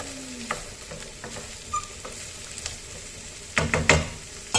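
Food sizzles in a hot pan while being stirred, with scraping strokes through a steady fry and a louder burst of stirring near the end.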